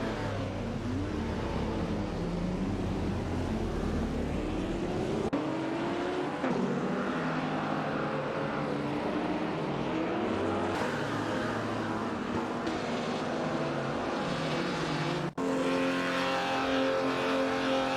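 1950s classic race cars in a racing video game roar continuously, with overlapping engine tones rising and falling as they accelerate and shift, plus a few abrupt cuts in the mix and no voices.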